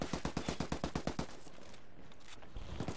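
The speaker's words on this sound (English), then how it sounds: "Taking heavy fire" Rapid automatic gunfire from a Ghost Recon match, a regular burst of sharp shots for about a second, then a quieter wash of distant firing before another short volley.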